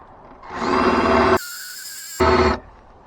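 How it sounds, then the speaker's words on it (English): Drill-driven wire wheel scrubbing rust from a Kia's steel body panel, two loud, close bursts of harsh buzzing abrasion separated by a brief high whine as the wheel spins free off the metal. "the wire wheel's actually taking it right out of the pits too, so it's working well"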